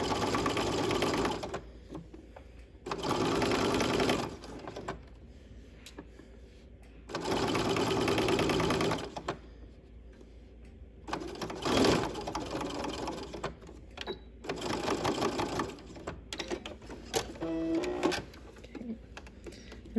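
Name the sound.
sewing machine stitching a welt pocket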